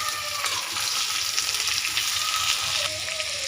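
Thinly sliced tomato hits hot oil in a pan for a hilsa fish curry, giving a steady, close, continuous sizzle and crackle with faint stirring, no talking.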